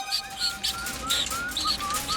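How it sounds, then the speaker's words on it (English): Cartoon baby bird chirps in a string of short, high tweets repeated steadily and fairly close, heard alone without talk. "There's a baby bird!"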